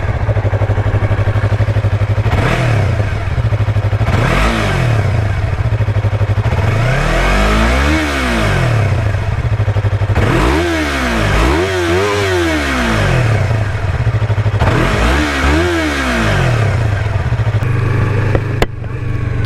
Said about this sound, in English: To go ahead and get a kind of a feel of what the exhaust sounds like,